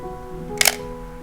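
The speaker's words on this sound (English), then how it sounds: "Maybe the shutter sound like this" A single crisp mechanical shutter click from a Pentax SP film SLR camera, sharp and close, over a faint steady hum.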